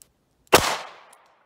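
A single sharp, loud report from a Ruger LCR .38 Special revolver firing 158-grain Remington HTP +P ammunition, shot into a chronograph about five feet away, with a short fading decay afterward and no talk.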